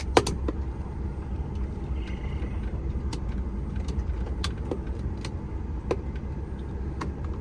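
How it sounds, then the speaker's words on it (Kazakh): Cars passing on a road near a parked truck at night, a steady low traffic rumble with faint distant ticks and clicks, no voices. "Жолдан өтеді, машина өтеді."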